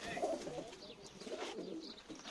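Pigeons coo in soft, repeated throaty calls, fairly close but faint, over light background noise.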